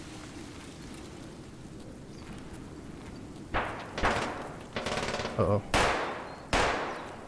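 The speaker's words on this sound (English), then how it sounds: "Sounds like the new Uzi." Uzi submachine gun fire in Escape from Tarkov, a few sharp bursts and single cracks starting midway after a quieter rain-like ambient bed, with a brief spoken exclamation.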